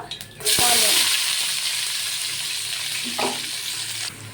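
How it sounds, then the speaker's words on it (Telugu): Onions and whole garam masala spices fry in hot oil for mutton biryani, giving a loud, close, continuous sizzle with a couple of brief stirring scrapes. "ఆనియన్ ఫ్రై అవుతున్నాయి కదా"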